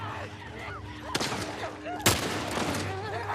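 Two sharp, loud gunshots ring out about a second apart in The Last of Us Part I, over a low background of game ambience and faint voice.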